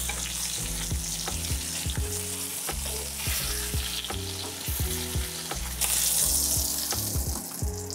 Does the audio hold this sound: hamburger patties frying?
yes